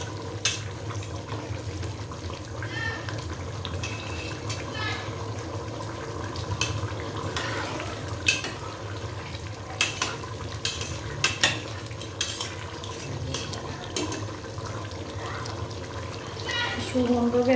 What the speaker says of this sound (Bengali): এই সবজিটা আর একটু কষাবো, কষে তারপরে চালটা দিয়ে দেবো